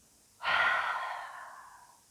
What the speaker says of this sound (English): And then exhale through your mouth.